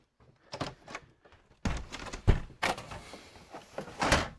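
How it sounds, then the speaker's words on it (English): In a home woodworking shop, a dog door is shut with a series of close, loud clunks, rattles and thumps in uneven bursts, with no voices. "Dog door shut."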